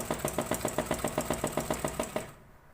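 A sewing machine stitches a straight seam on old reused fabric, a fast even run of mechanical clacks for about two seconds before it stops into near silence.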